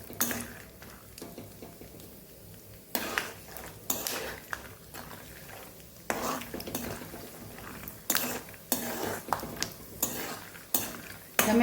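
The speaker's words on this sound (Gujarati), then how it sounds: "પહેલાં આપણે માંડવીના બીને તળી લઈશું।" Peanuts frying in oil in a pan, stirred with a utensil, giving a steady soft crackle with repeated sharp scraping clinks against the metal pan, close and fairly quiet.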